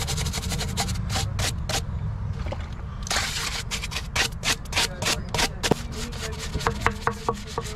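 Brush scrubbing rust off a car rim on a Challenger Scat Pack, heard as close, rapid scratchy strokes in bursts over a steady background hiss, with sharp clicks and taps among the later strokes.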